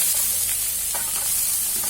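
Ghee heating in a hot kadai before carrot halwa, a continuous close hiss and sizzle with a few faint stirring touches and no speech.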